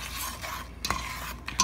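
Raisins and almonds are stirred into a cooking mixture in a pan, making soft sizzling scrapes with a few sharp utensil clinks near the end, close and fairly quiet with no talk.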